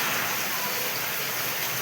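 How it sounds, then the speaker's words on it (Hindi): Heavy morning rain falls in a continuous, broad wash of hiss, steady throughout and fairly close, with no voices above it. "आज सकाळु प्रबल वर्षा होछि"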